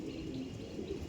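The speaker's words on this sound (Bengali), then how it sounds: "দেখুন পায়রা কত সুন্দর পায়রা দেখুন" Andhra pigeons cooing in a low, soft, continuous murmur, close by and fairly quiet, with no talking.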